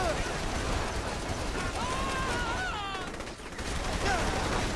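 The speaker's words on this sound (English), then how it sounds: "I want to shoot people in the face with my guns." Gunfire from weapons in the video game Saints Row the Third, a dense continuous barrage of shots blended with game noise and whistling tones, loud and unbroken throughout.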